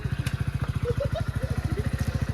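A motorcycle engine putters steadily at idle or low speed, its rapid regular thumping pulses close by, with faint voices and chirps in the background.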